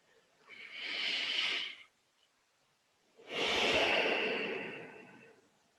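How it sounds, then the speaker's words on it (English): Two deep breaths drawn in and let out slowly during a guided group meditation, each a soft, airy rush lasting about two seconds, separated by a short pause of quiet. "And another deep, holy, beautiful, magnificent breath"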